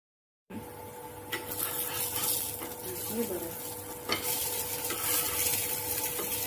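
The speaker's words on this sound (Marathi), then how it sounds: "बीटरूट पॅटीस शॅलो फ्राय करूया।" Beetroot patties shallow frying in oil in a pan, a continuous close sizzle starting after a brief silence, with occasional scrapes and taps of a spatula.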